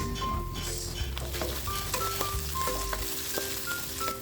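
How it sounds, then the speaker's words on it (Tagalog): Onion, garlic and tomato sauté in hot oil in a pan, giving a dense, continuous sizzle close by, with scattered utensil taps and faint tonal clinks over a low background hum. "igisa na natin ang sibuyas, bawang, at isunod naman natin ang kamatis"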